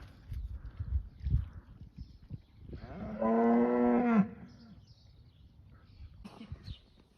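A single long, deep moo sounds from a cow out in a field, with faint rustling and distant low noises before and after.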